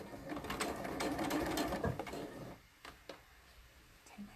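A sewing machine stitches across a hammered denim seam with a close, fast mechanical chatter for about two and a half seconds, then stops, leaving a few light ticks and clicks.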